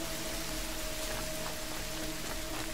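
Steady rain falls in an outdoor game world, a dense, even hiss of drops on the ground with a faint low hum beneath and no voices.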